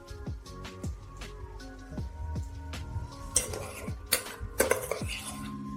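Sauce being stirred slowly in a pot over low heat, with a spoon clinking and scraping against the metal sides in a steady series of close, ringing taps and short scrapes.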